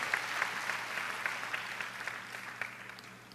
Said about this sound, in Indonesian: Tepuk tangan panjang.